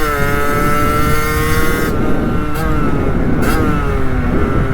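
A 50cc motorcycle engine drones steadily, its pitch rising and dipping slightly as it revs, loud and close throughout.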